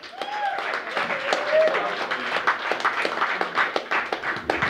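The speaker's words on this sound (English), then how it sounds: "Please give a warm round of applause for the managing editor of Bent Writer Online, Mr. Bryan Ball" Applause and clapping from a comedy showcase audience in Boulder as a comedian is welcomed to the stage, a dense, steady patter of many hands filling the room at moderate volume, with a few voices mixed in.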